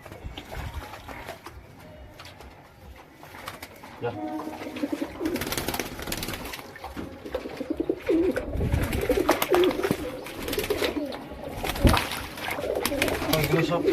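Pigeons coo repeatedly while being bathed, soft throaty calls mixed with splashing and handling noise that rises after the first few seconds and continues steadily throughout.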